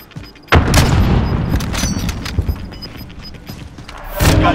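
A grenade blast from Call of Duty Warzone hits as one loud boom with a long rumbling tail, followed by scattered thuds and a second heavy burst near the end.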